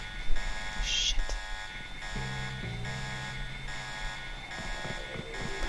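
An alarm sounds in the video game Deus Ex, a steady multi-tone electronic ringing that carries on throughout, with a brief beep near the start and faint game noises underneath.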